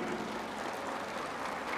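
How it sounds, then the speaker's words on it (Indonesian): Applause for a group of mothers at a church gathering of PPD Distrik 19 Bekasi, a steady dense clapping wash that fills the short moment without any voices over it. "Tepuk tangan untuk ibu-ibu ini."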